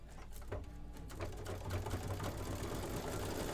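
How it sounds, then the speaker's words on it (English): A sewing machine stitches a decorative leaf pattern, its needle hammering in rapid, even pulses close by, the motor settling into a steady whirring run. "I'm just going to go ahead and stitch."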